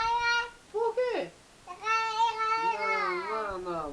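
A voice imitates a cat with drawn-out, high, wavering meows, several in a row with short pauses, close and clear.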